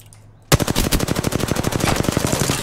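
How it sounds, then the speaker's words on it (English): Video game gunfire: after a half-second lull, a rapid sustained automatic burst of sharp, evenly spaced shots, loud and close, continuing to the end. "There's another team shooting at him."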